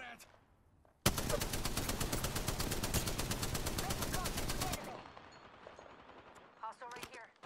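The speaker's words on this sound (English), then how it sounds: "Getting shot at!" Sustained rapid automatic gunfire in the video game Apex Legends, a loud continuous burst of several seconds that stops abruptly, followed by quieter scattered game effects and a couple of short sounds near the end.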